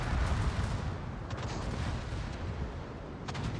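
Battleship main guns fire in World of Warships, a loud rumbling broadband blast that rolls on for seconds with faint crackling bursts layered over a low thundering bed, no talk.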